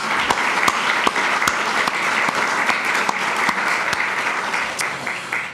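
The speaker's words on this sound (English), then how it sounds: "Let's give them another round of applause." A graduation crowd at an awards ceremony claps steadily, close and fairly loud, with a few sharp individual claps standing out above the sustained applause throughout.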